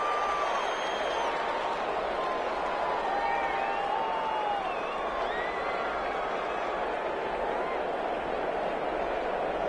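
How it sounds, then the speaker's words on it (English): Stadium crowd noise in a PS4 football video game against Seattle, a steady loud roar building through the whole stretch as a big third down approaches, with faint whistle-like tones riding over the dense wash. "the crowd getting into it as we come up on a big third down"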